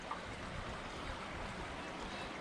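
A small inner-city creek flows with a steady, even rush of water close by, continuous and unbroken with no voices over it.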